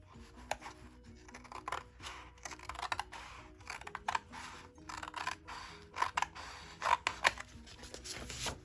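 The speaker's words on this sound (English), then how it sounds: "I'm just going to cut, looks about like 1 inch, maybe a little more" Scissors cut paper for a dog-themed 7x7 craft mini album, giving quiet, irregular snips and crisp clicks that come in quick bursts, close by with no voices.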